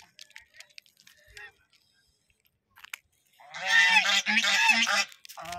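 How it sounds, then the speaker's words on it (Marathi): Ducks near a boating spot give a loud burst of honking calls at close range in the latter half, after scattered quieter sounds. "इथं बदक आहेत,"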